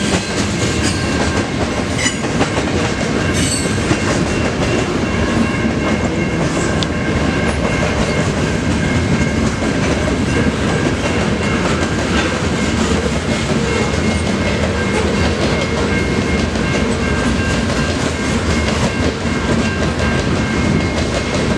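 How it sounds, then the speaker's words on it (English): A long CN mixed freight train rolls past the Emmons Blvd railroad crossing in Wyandotte, Michigan, making a loud, unbroken rumble and clatter of wagons that stays steady for the whole stretch. "This is a very long freight train."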